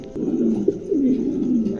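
Pigeons, a black male and a deep-coloured Andalusian female, coo in soft low rolling calls, close by over faint background noise.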